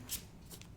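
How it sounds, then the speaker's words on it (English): A deck of Magic: The Gathering cards gets a quick shuffle, a short crisp riffle burst followed by softer rustling, close by and quiet with no talking. "So let's shuffle real quick."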